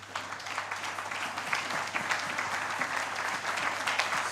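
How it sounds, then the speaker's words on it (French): A church congregation applauds during a French-language sermon, a dense, steady burst of many hands clapping that lasts several seconds, with no speech over it. "Acclamons la parole de Dieu"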